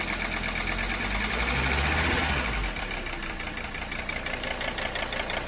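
A Mercedes 300SD diesel engine, smoking heavily, clatters at close range as the throttle is blipped, its low rumble rising for a couple of seconds before dropping back to a rough, knocking idle.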